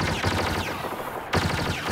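Rapid gunfire in a first-person shooter video game, a dense burst of shots that cuts off briefly and then resumes, steady and loud throughout with no talking.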